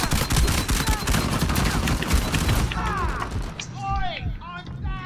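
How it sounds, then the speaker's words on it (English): Sniper rifle fire in Uncharted 4, dense booming shots and clattering action over a loud game soundscape, fading into scattered metallic chirps and ricochets toward the end. "Sorry, John, I was shooting with the sniper."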